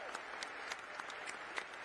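A distant audience claps steadily for Lightning customers at a truck launch event, a faint, even patter of many hands with no break.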